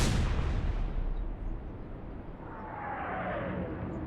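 Heavy naval gunfire from the battleship King George V in Atlantic Fleet, a loud deep boom at the start rolling off into a long fading rumble, followed by a rising whistling shell sound.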